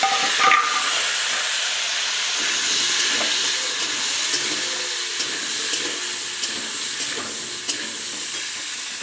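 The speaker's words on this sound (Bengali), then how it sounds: "এই তেলটা গরম হয়েছে আলুগুলো ভেজে নিই" Potatoes frying in hot oil, a steady broad hiss and sizzle with faint crackles throughout, fairly loud and without voices.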